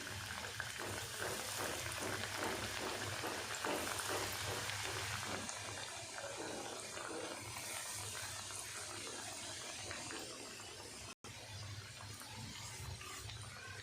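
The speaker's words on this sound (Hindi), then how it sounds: "अब हम इसको तलना शुरू करते हैं।" Breadcrumb-coated fish pieces sizzle in hot oil in a kitchen pan, a dense steady crackle and bubbling that stays loud and even throughout, dipping for just an instant near the end.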